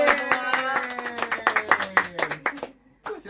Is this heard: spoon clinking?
no